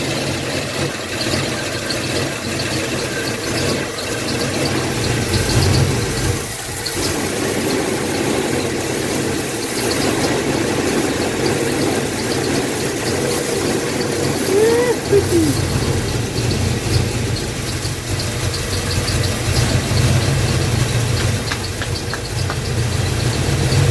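A 1986 K5 Blazer with a freshly installed carbureted engine idles loudly and steadily at close range for the whole stretch, a continuous even rumble with no voices.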